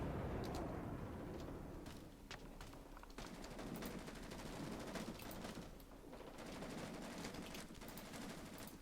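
Sustained suppressing gunfire in Rising Storm 2: Vietnam, rapid automatic bursts cracking one after another over about nine seconds, dense and continuous with brief lulls.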